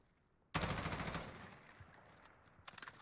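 Rapid automatic gunfire in the Call of Duty Modern Warfare video game: a sudden, loud burst of rattling shots in a steady rhythm that tails off, followed by a few more quick shots near the end.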